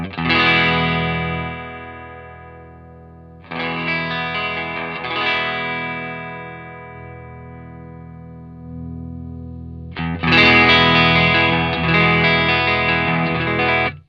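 Digitech Hardwired Valve Distortion pedal driving an electric guitar, with bass and treble turned up; thick distorted chords ring out in three loud bursts separated by sustained decays, no talk.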